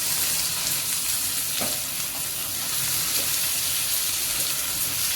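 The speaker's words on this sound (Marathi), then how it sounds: "त्यामध्ये टमाटर, शिमला मिरची दोन्ही आपण परतून घेणार आहे" Tomato and capsicum sautéing in hot oil, a continuous loud sizzle with scraping stir strokes now and then, close by and without talk.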